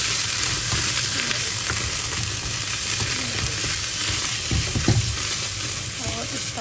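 Hot tempering (tadka) for sarson ka saag sizzles loudly and continuously in a pan, with occasional stirring clinks over the steady frying hiss.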